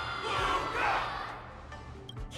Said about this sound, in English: Can't you hear? Everyone's cheering for you